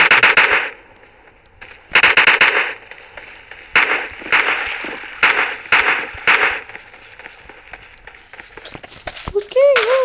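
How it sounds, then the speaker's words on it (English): Gunfire from the battle royale game PUBG Mobile plays in repeated rapid bursts, loud and close, broken by short pauses. A person talks over parts of it, and a rising electronic tone sounds near the end. "Gunfire, I don't know what's going on."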